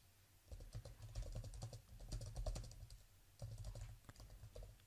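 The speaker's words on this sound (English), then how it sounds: "I'm going to type if not, and then put in brackets" Python code being typed on a computer keyboard: bursts of quick, close key clicks with short pauses between runs, no voices.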